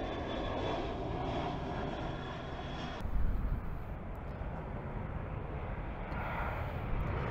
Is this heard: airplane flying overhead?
yes